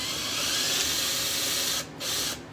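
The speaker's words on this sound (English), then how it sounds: "I'll drill this other rivet out just so you can see." A power drill bores out a metal rivet on a trapping pack basket, giving a steady high whirring grind that runs continuously, then dips briefly twice near the end as the bit catches and releases.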